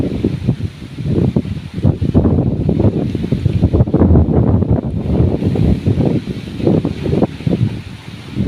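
Strong waves and wind on Pulangi River in Maramag, Bukidnon, a loud continuous rushing surge with heavy buffeting wind on the microphone and no voices.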